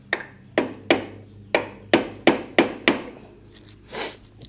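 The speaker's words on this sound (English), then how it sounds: "tap this thing with a hammer, tap this screwdriver and see if I can make a little hole." About eight sharp hammer taps strike a screwdriver being driven into a transmission seal on a Polaris Scrambler 500 ATV, spaced evenly and close, followed by a softer scuff.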